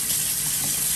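Cold tap water pours in a steady, close hiss over just-cooked green beans to stop them cooking, one continuous rush with no voices.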